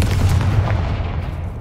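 A Confringo fire spell from a Harry Potter video game bursting as a deep, booming explosion, loud and close, with a heavy low rumble that fades over a second and a half.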